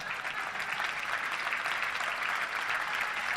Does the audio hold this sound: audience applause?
yes